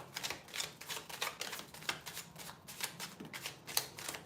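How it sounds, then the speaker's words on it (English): A deck of tarot cards is riffled and shuffled by hand up close: quiet repeated bursts of crisp flapping and snapping arrive in an uneven rhythm, with no talk. "that was a clean shuffle"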